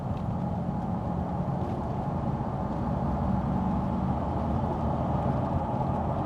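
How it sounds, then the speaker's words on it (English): A 1990s Bentley Continental T at quarter throttle on a level road, its engine giving a steady, dense low rumble mixed with road and cabin noise, unbroken and fairly loud with no talking. "So I'm going to give this car a quarter throttle or something like that."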